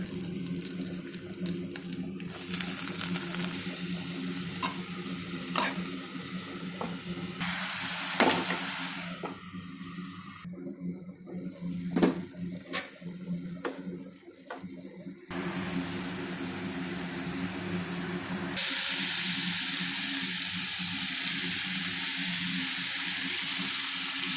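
Onion and cabbage frying in a pan, giving a steady sizzle with brief clatters and shifts in texture, louder and brighter in the last stretch.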